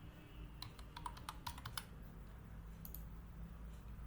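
Typing on a computer keyboard during web app testing, with a few quick, faint key clicks in short bursts over a quiet background hum, followed by a brief pause and a couple more taps.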